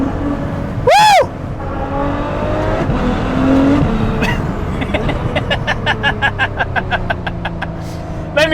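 A Ferrari F12 Berlinetta with a 7-speed dual-clutch gearbox revs hard and loud, rising through rapid-fire upshifts that come as a quick rhythmic series of clipped pulses, with a brief louder sweep early on.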